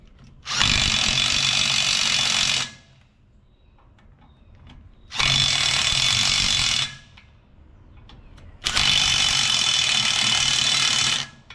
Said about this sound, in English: These are 3/4 inch socket. Tighten them down.